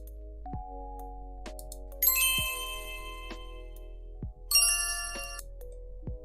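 Quiz bell ringing twice, bright metallic dings with long ringing tails, separated by sliding tonal swoops and soft taps, moderately loud against a quiet low hum.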